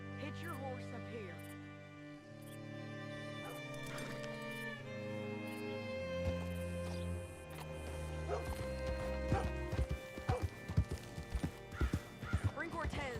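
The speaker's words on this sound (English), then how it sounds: "Hitch your horse up here." A horse's hooves clip-clop in Red Dead Redemption 2 on PC. Steady musical tones come first, then sharp, irregular hoof beats grow louder and closer.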